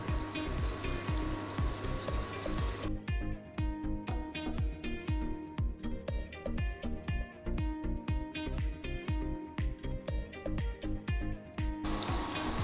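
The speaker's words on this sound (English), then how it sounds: "I'm putting them in a hot oil to fry" Vegetable cutlets frying in hot oil, a dense steady sizzle with rapid crackling pops that grows busier partway through and runs loud and close the whole time.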